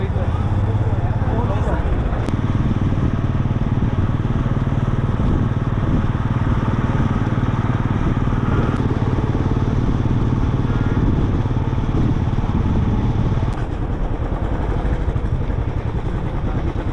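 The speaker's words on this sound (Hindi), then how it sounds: "मेरे पास तो अपना बाइक है तो मैं बाइक से जा रहा हूँ" A motorcycle engine runs steadily on a ride toward Sagar village on the Rudranath trek route in Uttarakhand, a close, low rumbling drone with a few sharp clicks.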